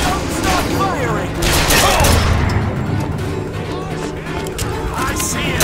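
Rapid gunfire from a Bioshock Infinite firefight crackles in dense, loud bursts, mixed with impacts and shouting voices over the action.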